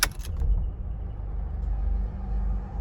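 A 2014 Mercedes-Benz GLK250 Bluetec diesel cranks with a brief clatter at the start, then settles into a steady low idle rumble with no one talking.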